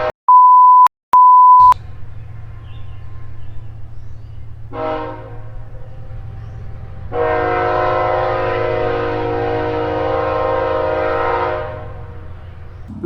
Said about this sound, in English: This is that train yard that causes all of that mayhem